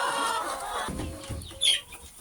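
Chickens on a small poultry farm cluck in a soft, continuous murmur, with one brief sharper squawk near the end and no talk over it.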